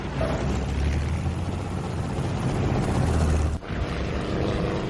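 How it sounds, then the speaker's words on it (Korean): Propeller fighter planes roar in a war-film aerial combat scene over Long Island, a steady loud engine drone filling the whole stretch with a brief dip near the end. "두 전투기는 서로의 실력을 겨루는 데 고개 비행을 합니다"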